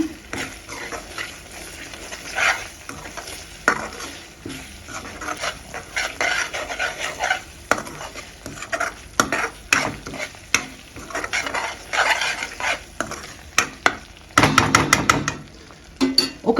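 Spinach, onion and chili masala with a half spoon of coriander powder is stirred in a hot pan. A spoon scrapes and clinks in repeated strokes over a steady sizzle, close and fairly loud, with no one talking.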